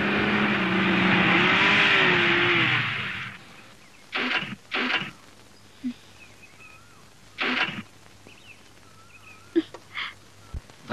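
A car passes with a loud rising engine rush that fades within a few seconds as it slows and halts, followed by scattered clicks and light knocks in a quieter space.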